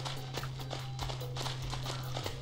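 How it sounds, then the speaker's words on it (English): A goat climbing a ladder in the video game Goat Simulator produces a quick run of light, clattering hoof-like steps over a steady low hum, fairly close and continuous for a couple of seconds. "Show you guys how goats climb ladders."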